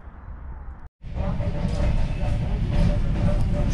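A train arrives at a station in the old city of Vladimir, a loud steady rumble of wheels on rails building after a brief cut, with faint clatter and hum throughout.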